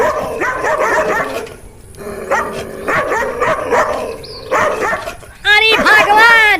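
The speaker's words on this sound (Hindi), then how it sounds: "उसके दरवाजे के बाहर खड़ा हो जाता है और ज़ोर ज़ोर से भौंकने लगता है" A dog barks loudly in a burst of repeated woofs and yips outside a door, followed by a whimpering, wavering cry, all close and forceful as a horror story effect.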